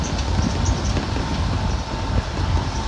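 A small tourist road train, broken down, rumbles along in a steady low clatter with wheel-like rattling, fairly close and continuous.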